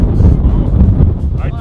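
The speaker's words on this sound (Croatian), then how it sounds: "Ajde, ajde, vjetar puši." Wind buffets a microphone outdoors at a football crossbar challenge, making a loud, low, rumbling roar that surges and dips unevenly through the whole short moment.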